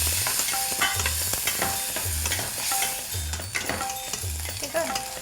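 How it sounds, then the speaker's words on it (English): Garlic fries in oil in a pan with a loud, steady sizzle close by. A repeating low scrape of stirring runs through it, along with occasional clinks, and no one talks. "So you let them fry nicely."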